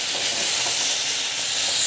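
Okra frying in oil in a pan: a continuous bright, hissing sizzle heard up close and fairly loud, with no voices.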